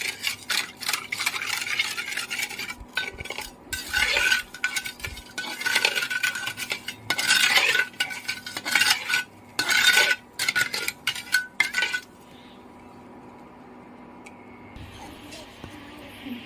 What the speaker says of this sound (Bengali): ভালো করে চিনির শিরাটা বানিয়ে নেব